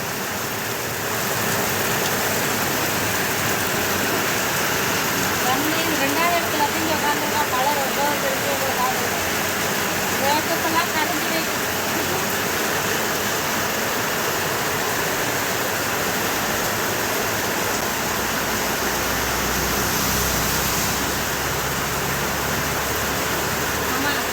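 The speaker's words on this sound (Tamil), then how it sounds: "திருவாரூர் மாவட்டத்தில் கனமழை" Heavy rain pours steadily and loudly in a rural Tiruvarur district village, a dense continuous hiss with no break throughout.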